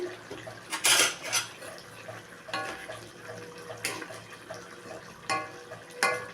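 The lid comes off a cooking pot of katla fish head and rice: a few metallic clanks and clinks ring out at irregular intervals over a low, quiet background.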